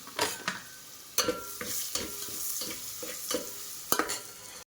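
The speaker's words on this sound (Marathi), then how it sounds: "सगळं बारीक केलेलं सामान टाकून घेते ह्याच्यामध्ये आणि मिक्स करून घेते सगळं" Chopped ingredients with turmeric sizzle in a hot pan while a spoon stirs them, the scraping strokes landing every second or so over a steady close frying hiss.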